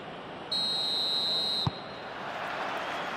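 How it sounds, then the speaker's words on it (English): Referee's whistle blowing for kickoff in the football video game PES 21 during a Manchester United vs Tottenham match: one long, steady, shrill blast lasting about a second, heard clearly over a constant crowd roar, ending with a brief thump. "There's the whistle, and here we go."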